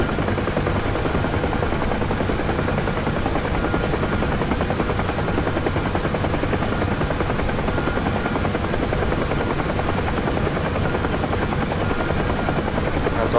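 UH-1H Huey helicopter in the DCS combat flight game, a continuous loud rotor thump and turbine drone held steady throughout, with no voices.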